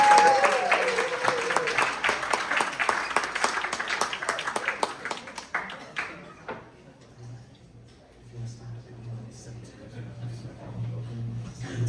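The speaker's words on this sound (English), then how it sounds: "We can please give a round of applause for John." Audience applause at a talk event fills the first six seconds as dense, loud clapping, then dies away to quiet room noise with a low hum.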